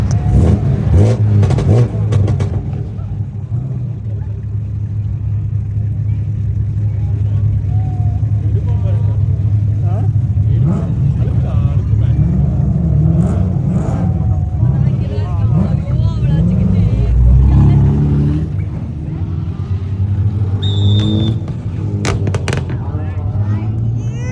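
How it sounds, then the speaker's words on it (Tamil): Racing cars in the Netherlands rev hard and roar away from the start of a car race, a loud, steady engine drone with rising revs and cars passing close, and a spectator talks over the noise. "இந்த கார் ரேஸோட சவுண்டு கேளுங்க, உங்களுக்கு புதுசாக இருக்கும்."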